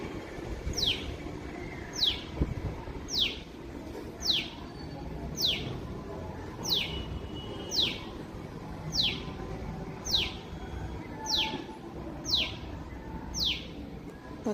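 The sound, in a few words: bird calling repeatedly on a balcony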